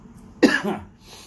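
A single close, harsh cough bursts out and trails off quickly, with quiet room noise before and after.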